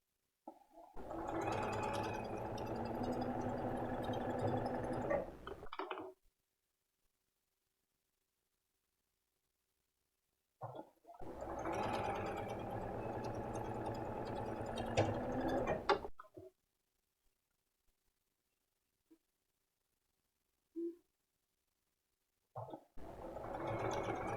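Sewing machine stitching a quilt block for an open diamonds pattern, three separate runs of rapid mechanical whirring, each about five seconds long, separated by silent pauses and a few faint clicks.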